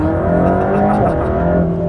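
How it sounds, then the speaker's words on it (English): A Mercedes-AMG GT3 race car accelerates out of a corner on a track, its engine a loud, close, steady drone with dense, slightly rising harmonics. "turn-in point to the apex, and then accelerating back out"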